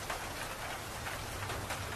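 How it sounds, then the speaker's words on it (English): Steady rain patters on a rooftop, a dense, even hiss of countless drops with soft thuds beneath, continuous and unbroken with no voices. "Rain is coming, rain is coming."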